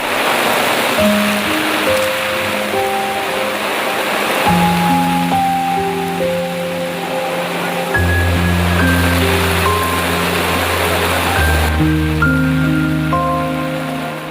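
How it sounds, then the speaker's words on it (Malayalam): A constant roar of rushing water from the flooded Kalladipuzha river after a landslide fills the background while sustained musical notes play over it. "കള്ളാടിപ്പുഴ കലിപ്പുകൊണ്ടൊഴുകി"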